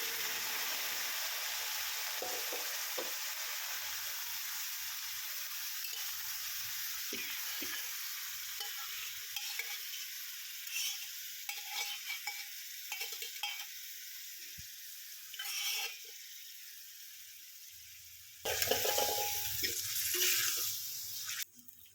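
Steady hissing sizzle from a hot pan as boiled Chinese potato is stir-fried, with occasional stirring scrapes and clinks, rising into a louder burst of sizzling near the end.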